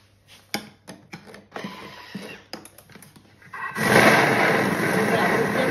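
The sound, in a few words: Thermomix food processor mixing at speed 10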